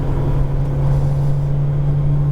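An Alpine sports car drives on a track, its engine a steady, loud low drone heard from inside the cabin, with no talk over it.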